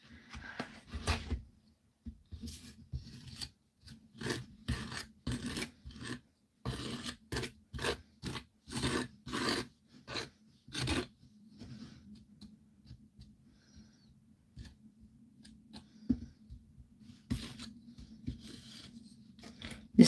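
A palette knife spreads thick textured paste onto the edge of a canvas, giving a series of close, short rasping scrapes in irregular strokes with brief pauses between them, fainter toward the end.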